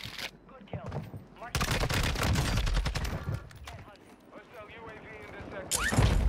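MP5 submachine gun fire in a video game, rapid automatic bursts sustained for several seconds at close range, with a player talking over parts of the shooting.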